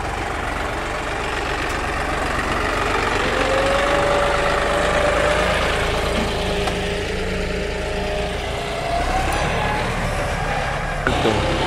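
A tractor engine runs at a sugarcane harvest, a loud, continuous low drone with a faint whine rising partway through, and outdoor noise over it throughout.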